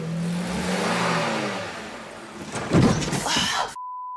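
A car engine revs in short surges as the driver steps on the gas, loud and close, before cutting off abruptly and giving way to a steady electronic beep.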